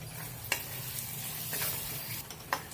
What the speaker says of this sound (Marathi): आता ते आपण सगळे मिक्स करून घेऊया